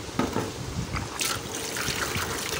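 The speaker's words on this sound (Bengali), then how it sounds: "ওগুলো আমি সুন্দর করে পানি দিয়ে পরিষ্কার করে নিব" Red lentils (masoor dal) being rinsed with water in a home kitchen, a soft close trickle and splash of liquid with small sloshing bursts, quiet and without speech.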